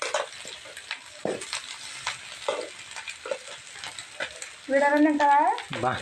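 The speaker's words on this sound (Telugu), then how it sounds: "నాకు కావాల్సినంత రైస్ అయితే తీసుకుని వేసుకోవాలి" Cooked rice is stir-fried in a pan for chicken fried rice, with a constant sizzle and irregular spatula scrapes and taps. A louder, tonal burst of sound rises near the end.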